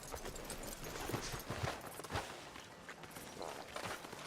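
Horse hooves clip-clop at a walk in Red Dead Redemption 2, heading into town and stopping outside a sheriff's office. Soft, steady hoof thuds sit close under light ambient game noise. No one speaks.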